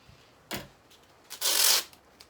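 Adhesive tape being pulled, stuck down and cut on a dress form while making a bodice: a short rip, then a longer, louder tearing strip of tape, close and quiet between.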